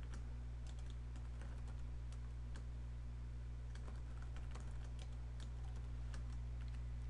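Steady typing on a computer keyboard during a Photoshop magazine cover design, quick light key clicks in an irregular rhythm, close and fairly quiet over a low hum.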